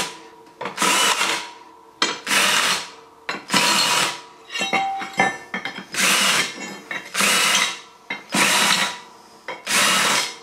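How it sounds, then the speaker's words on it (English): Half-inch drilled holes in a steel stake-pocket winch mount being deburred with a power tool: about eight separate bursts of grinding whir, each roughly a second long, close and fairly loud, separated by short pauses with no talk. "Let's deburr these."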